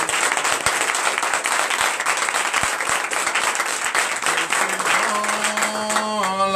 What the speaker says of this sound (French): Je vous demande d'applaudir très fort notre Dieu